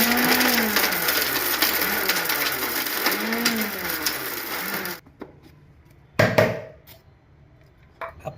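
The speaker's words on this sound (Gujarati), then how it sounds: "8-10 દાણા એલચી લીધા છે અને અડધું નાનું જાયફળ લીધું છે અને મિક્સરમાં પીસી નાખીએ" A kitchen mixer grinder runs on cardamom pods and half a small nutmeg with a loud, rattling whir for about five seconds, then cuts off. Two short bursts of grinding follow after a quiet gap.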